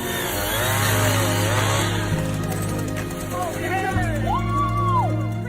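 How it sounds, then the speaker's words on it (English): A chainsaw buzzes continuously up close, its pitch dipping and rising as it bites into hard deer antler, with voices faintly underneath. "separate the animals using a chainsaw without hurting them"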